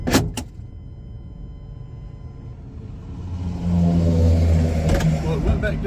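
A car with a transmission that drops back to low instead of holding second pulls away on a road, its engine rumble swelling and growing louder partway through with a brief whirring burst at the start.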